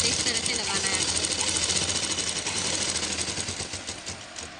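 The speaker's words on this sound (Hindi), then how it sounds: "अब हम इसके ऊपर एक सिलाई दाब लगाएंगे।" A sewing machine stitches a blouse seam, running continuously with a fast, even mechanical rattle, close and loud for the whole stretch, slowing slightly near the end.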